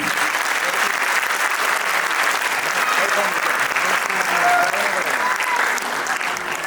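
A school crowd at an annual day event gives a children's performance a burst of steady, continuous applause that fills the whole stretch without pause.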